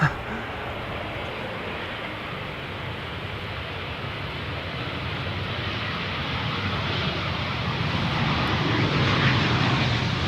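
An Embraer 190 airliner arrives at Amsterdam Schiphol Airport on a sunny day, its engines giving a broad, steady roar that slowly swells louder as it approaches, heard from a distance and without pause.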